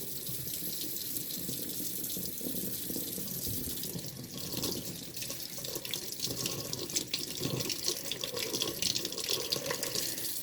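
Acrylic paint brushes being rinsed under a running tap, with a steady broadband rush of water into a sink that swells and splashes louder in the second half, no voices.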